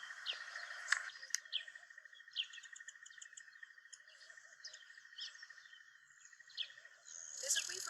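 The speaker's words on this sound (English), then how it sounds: "There's a weaver bird building a nest right in the tree above our tent." A weaver bird calls from the tree above a campsite tent while building its nest, giving repeated bright chirps and trills over a steady high insect-like buzz, fairly close and moderately loud, with no talk.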